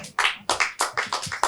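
Around eight sharp hand claps ring out in a quick, fairly even rhythm from an audience cheering performers, quiet and set against near silence.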